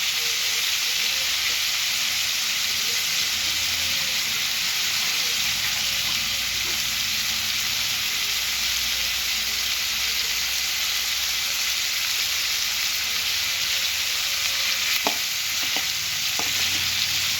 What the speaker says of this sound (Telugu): టమాటాలు బాగా మగ్గే వరకు మగ్గించుకోవాలండి.